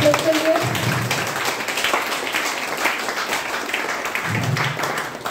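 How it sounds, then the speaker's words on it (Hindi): Audience applause at a gathering of women and men in Lumbini, Nepal, a dense patter of many hands clapping that stays steady and fairly loud throughout, with no voices on top. "बहुत जोरदार ताली हो जाए"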